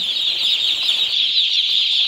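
A dense, continuous high chorus of many broiler chicks peeping at once on a poultry farm, a steady shrill wash with no pauses, close and loud.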